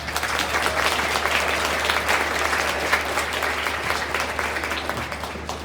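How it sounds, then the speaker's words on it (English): A school band concert audience applauds an assistant principal, a full, steady patter of many hands in a hall, loud and continuous throughout with a low background hum and no speech. "If we can give him a round of applause."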